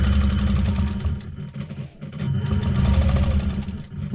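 A sewing machine with a worn needle stitches a quilt, running in a loud, continuous mechanical whir with a fast rhythmic chatter that dips briefly around the midpoint before resuming.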